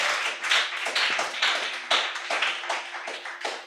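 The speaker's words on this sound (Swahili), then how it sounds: "Kwa Yesu makofi jameni." A congregation at a Christian church service claps together in quick, steady rhythm, dense overlapping handclaps filling the room without pause for several seconds.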